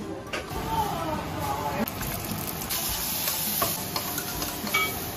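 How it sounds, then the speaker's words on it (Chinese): Dishes stir-fried in a pan at home, a continuous close sizzle with clinks and scrapes of stirring, voices talking over it. "差不多了，把卤菜起锅，开始炒"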